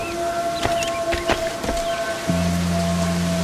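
Steady rain hisses across a scene in the video game Assassin's Creed Black Flag, with sustained musical tones, a few sharp clicks and a low drone entering partway through.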